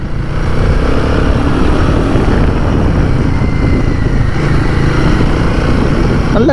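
Royal Enfield Guerrilla 450, a 2025 model, rides over loose ground with a steady loud engine drone and broad rumbling road and wind noise that continue without pause and without talk.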